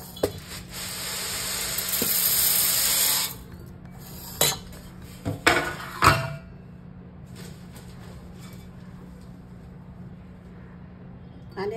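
Urad dal poured into a bowl, a rushing patter of dry grains for about three seconds, then several short scraping, clattering handling sounds and quiet pauses, with a speaker talking at times.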